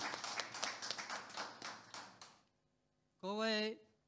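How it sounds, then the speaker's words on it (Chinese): An audience at an art exhibition evening claps in a short burst of scattered hand claps that fades out, followed by a brief tonal sound after a pause. "我们用我们热烈的掌声邀请赵天松老师为大家致辞"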